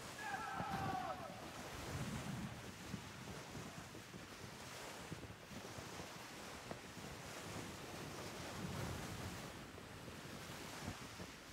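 Blustery wind sweeps over open sea while sailing in the pirate game Skull and Bones, a constant broad rushing roar mixed with the wash of waves, moderately loud and unbroken throughout.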